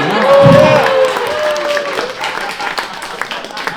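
Comedy club audience at a brewery clapping and cheering after a stand-up set, with a brief shout early on, then steady applause that thins out, while a host's voice carries over it.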